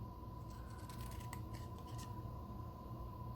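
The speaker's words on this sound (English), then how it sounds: "you've got the little flaps here that you're going to want to trim down." Scissors trim paper card flaps with a few quick, close snips over a low hum in a quiet room.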